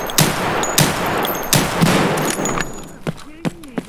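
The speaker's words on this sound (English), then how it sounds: "Shocking shooting from PFlax." Rapid gunfire in Escape from Tarkov, a string of sharp shots in quick bursts, loud and close, trailing off into a few scattered clicks and a brief whistle-like tone.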